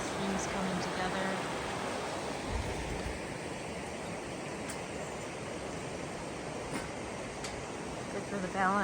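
Mountain streams meeting below a swaying footbridge in the Sierra Nevada make a steady broadband rush of flowing water, with faint voices and footsteps over the top.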